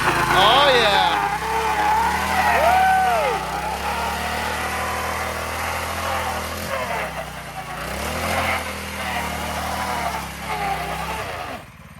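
Mini bike engine revving hard through a tire burnout, a loud continuous buzzing drone with rising and falling pitch sweeps that runs the whole time, with voices talking over it.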